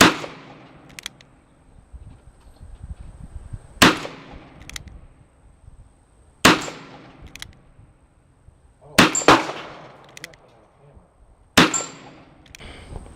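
Five sharp, loud gunshots from a .32 H&R Magnum firing 115 grain round nose flat point loads, spaced a few seconds apart, each with a quick echoing decay and no talking.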